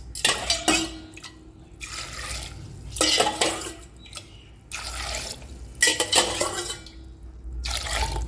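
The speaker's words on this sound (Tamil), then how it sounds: "இதில் நம்ம 4 கப்பு தண்ணி சேர்க்க போகிறோம்." Four cups of water splash and pour into a cooking pot with salt in several bursts, with metallic clinks and dripping between pours, close by.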